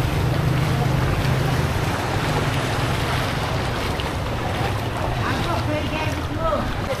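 A boat moves through floodwater on a flooded street in Malolos after a typhoon, giving a steady broad wash of water and engine noise, with heavy wind buffeting the microphone and faint voices underneath.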